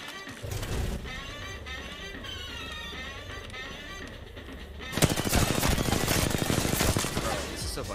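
Rapid gunfire from the video game Apex Legends, a dense burst of automatic shots that grows louder and busier in the second half, layered over steady game background noise.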